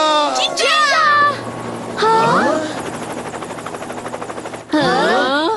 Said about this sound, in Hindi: वो हेलीकॉप्टर।